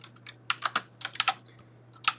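Rapid, irregular typing on a computer keyboard, a run of close, crisp key clicks with short pauses between bursts, heard alone with a faint steady hum underneath.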